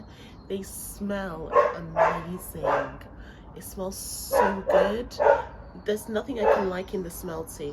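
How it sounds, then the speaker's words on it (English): A dog barks and yips repeatedly in a garden, short sharp bursts scattered close by while someone talks over them. "I do apologize about the barking."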